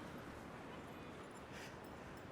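A Scottish terrier on a beach whimpers and gives soft yips, faint and somewhat distant against a constant wash of wind and surf noise.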